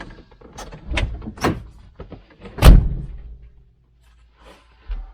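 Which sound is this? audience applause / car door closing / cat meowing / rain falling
car door closing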